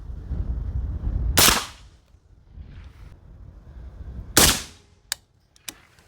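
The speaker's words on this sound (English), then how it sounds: "Let's shoot this once, and then you shoot yours once, and we'll hear the sound difference" Two suppressed shots from a PRI MK12 .308 rifle fired outdoors, each a loud sharp crack with a short decaying tail, about three seconds apart, followed by a few faint metallic clicks.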